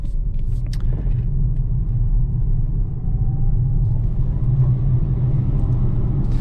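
A Polestar 2 electric car drives along quietly, giving a steady low road rumble and tyre hum throughout, with no engine note.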